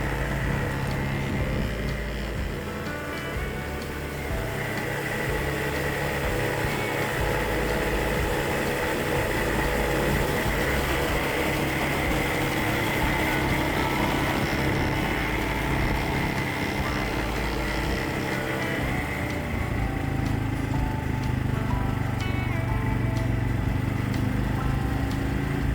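An ATV engine drones steadily and fairly loud up close while driving across an old trestle rail bridge on a trail, a continuous rumbling hum with slight changes in pitch throughout.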